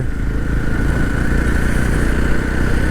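Yezdi Roadster motorcycle engine idling close by, a loud, steady thumping rumble with rapid even firing pulses and no voices.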